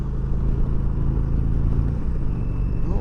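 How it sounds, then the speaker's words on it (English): An Indian Road Master Dark Horse motorcycle with a 116-cubic-inch engine drones steadily at highway speed, a deep continuous rumble mixed with wind, loud and close throughout. "this engine is extremely responsive with this 116 in it"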